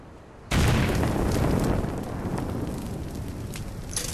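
A cocoon bursts into flame in the video game Little Inferno: a sudden loud boom, then a sustained roaring, crackling fire that slowly fades over several seconds.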